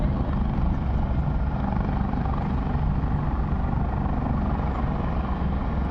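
A helicopter flies nearby, its loud continuous rotor and engine rumble holding steady throughout, heard near the Wan Chai harbourfront.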